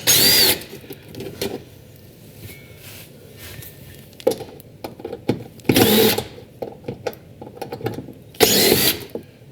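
Torx bolts are worked loose from the upper oil pan of a 2017 Ford F550, heard as several loud bursts of a power driver between quieter metallic clicks and fumbling, with no talking.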